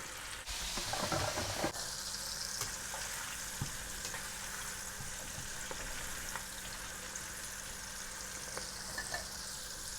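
Calamari deep-frying in a pan of hot oil, a soft continuous sizzle with a brief louder burst of bubbling near the start, then a steady low hiss with occasional faint clicks.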